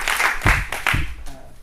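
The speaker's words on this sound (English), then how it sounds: "So, without much further ado, a round of applause for Prof. Emre." Audience applause for a guest speaker at a university speech lab talk, a short burst of clapping with a few distinct louder claps, fairly close, no talk over it.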